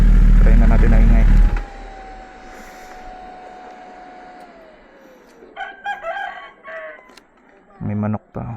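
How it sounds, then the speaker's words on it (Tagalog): A rooster crows loudly and close for about a second and a half, followed by a quiet stretch with a fading whine, then later bursts of chatter and clucking from nearby fowl. "May manok pa, manok mark."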